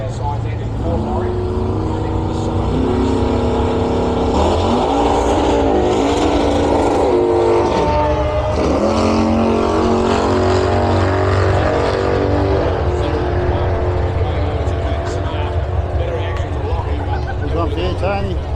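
A loud, powerful 1968 Holden Monaro muscle car engine roars steadily throughout a nostalgia drag race, revving and shifting in pitch as it accelerates, with voices talking over the noise.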